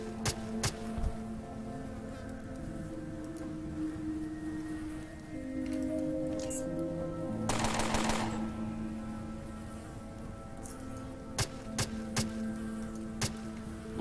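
Gunfire from the video game Underrail: scattered sharp clicking shots, then a dense rapid burst of rattling fire in the middle and a few more single shots near the end, over a low droning ambience.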